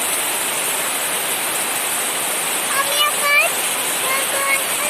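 Heavy rain pounds steadily on a house roof in a dense, unbroken roar, with a few faint tonal voice-like sounds briefly rising above it midway.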